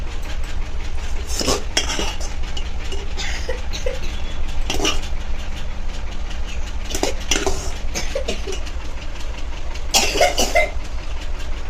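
A child coughs in several separate bursts spread across a kitchen scene. Close clinks of cutlery and pots and a steady low engine-like drone fill the background.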